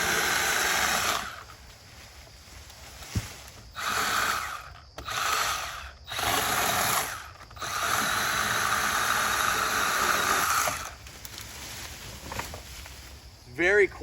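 A Milwaukee M12 Hatchet cordless pruning saw cuts through branches in repeated bursts of hissing, whirring noise with short pauses between cuts, alongside talking.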